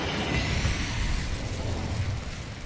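Incendio fire spell blast in Hogwarts Legacy during a spider fight: a roaring, crackling burst of flame with a rumbling low body, steady and moderately loud for the whole stretch, no voices.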